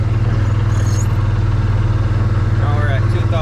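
An Arctic Cat Prowler XTZ 1000 UTV engine drones close by in a steady, pulsing idle that holds at a high pitch, revving high without engaging, with faint voices in the background.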